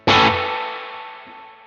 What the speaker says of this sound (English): let's check out the Dream and its spring reverb, and I'm gonna just put it up halfway so you can really hear it